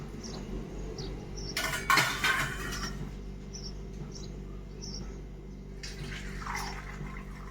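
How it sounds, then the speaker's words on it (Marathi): A kadhai washed out after cooking amti, with running water splashing and a brief burst of clattering metal nearby, while crickets chirp steadily in the background. "तर आमटी डब्यात काढून ठेवतो म्हणजे कढई धुवून टाकायची"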